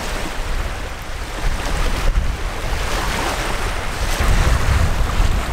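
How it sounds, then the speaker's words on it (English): Strong gusting wind buffets the microphone on a Nova Scotia beach while waves break and wash on the shore, a loud, continuous roar throughout. "So it is super windy out."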